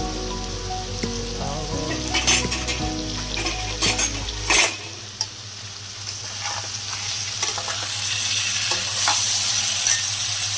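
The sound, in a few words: frying potatoes in a pan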